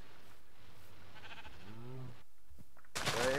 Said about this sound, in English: It's a gray sheep. Oh, what? They're all sheep.